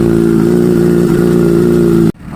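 Kawasaki ZH2 superbike with an Akrapovic muffler on a cold start, a loud, steady, deep engine drone held close up before it cuts off abruptly near the end.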